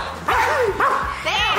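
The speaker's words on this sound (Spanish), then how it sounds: "este perro es un poco raro, ¿eh? No ladra, hace sonido raro" A dog makes odd, warbling yelps and whimpering, moaning vocalizations instead of ordinary barks, in three rising and falling bursts that are loud, close and continuous.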